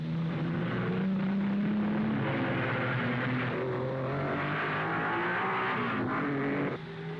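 Racing cars at the 1955 Monaco Grand Prix accelerating, engines droning loudly with rising pitch as they rev up, several motors overlapping and sustained without pause on a worn old recording.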